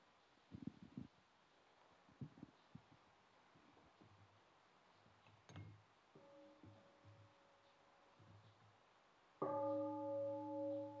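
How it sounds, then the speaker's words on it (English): A meditation bell at a Thai New Year retreat rings near the end, a loud sustained tone with steady overtones, after a stretch of faint scattered rustling and a brief softer chime midway. "Maybe we can listen to on sound of the bell."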